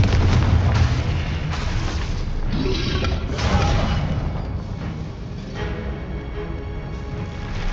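Fire-spell explosions in the Hogwarts Legacy game, a run of loud, heavy booms and bursts with rumbling low-end blasts layered over battle noise and music-like clatter, close and continuous for several seconds without speech.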